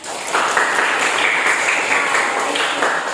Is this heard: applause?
yes